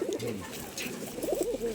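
Racing pigeons coo close by in a steady run of rolling, throaty calls, with no talking.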